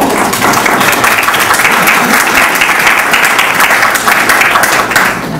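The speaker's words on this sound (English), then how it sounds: "Hello staff, you may all take your applause now." An audience gives city staff a loud, sustained round of applause, dense clapping that holds steady and then tapers slightly at the end.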